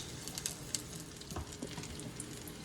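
Food sizzles and fries steadily in a pot while cooking Haitian diri sos pwa, a continuous crackling hiss with scattered pops, fairly quiet and close, with no talking.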